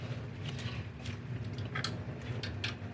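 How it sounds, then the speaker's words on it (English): Small hand ratchet turning a thread chaser through head bolt threads in the block of a 1999–2006 Silverado/Sierra, giving soft repeated clicks and faint ticks over steady background hum. "This one's a little ratchet, makes it easier."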